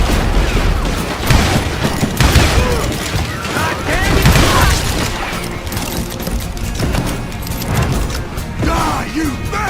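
Gunfire in the Call of Juarez Gunslinger video game, heard as a dense, loud western shootout with repeated shots and crashes, with voices shouting over it.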